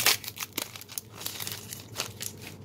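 Foil wrapper of a Cardfight!! Vanguard V-BT01 Unite! Team Q4 booster pack crinkling and tearing open, a close run of crisp rustles and crackles with a sharp burst at the start, no talking.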